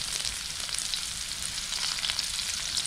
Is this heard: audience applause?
no